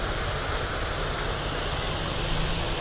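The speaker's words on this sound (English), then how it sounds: "like this little fountain down here and the waterfall" Small seafront fountain and waterfall in a resort garden, a loud steady rush of falling water filling the whole moment without pause.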